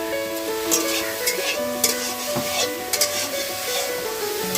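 Egg curry simmers and sizzles in a pot on a clay stove, with soft stirring scrapes and clinks of the spoon. Voices murmur over the steady frying.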